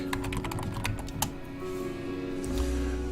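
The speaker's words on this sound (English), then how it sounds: "We're going to go ahead and type in Zoiper Classic." Keys clatter on a computer keyboard in quick, light bursts of typing, close and fairly quiet over a steady background hum.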